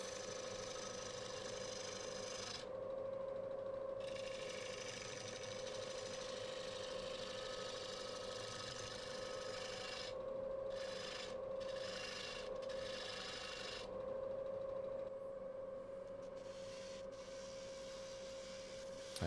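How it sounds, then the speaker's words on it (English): A wood lathe turns a heavy 20-inch oak bowl blank at high speed, giving a steady whirring drone with a sustained tonal hum and brief scraping breaks, close and continuous. "there's probably about 14 pounds of weight on the lathe right now, spinning at 800 RPM"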